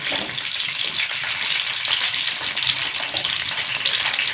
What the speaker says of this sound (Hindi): 2 दफ़ा हमने चॉप किए हुए प्याज डाल लेते हैं, इसको फ्राई कर लेते हैं।